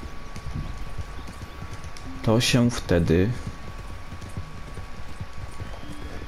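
Horse hooves clip-clopping in Red Dead Redemption 2, a steady rhythmic patter under a voice speaking, with a brief whinny-like tonal burst in the middle of the clip.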